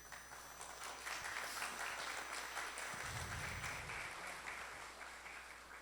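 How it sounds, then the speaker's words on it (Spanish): An audience at a Universidad Católica de Trujillo academic lecture applauds the university rector, with steady, moderately distant clapping and a brief low thump partway through. "para quien pido un aplauso por su asistencia"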